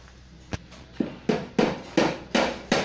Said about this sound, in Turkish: Bütün tadilat çalışmaları devam ediyor.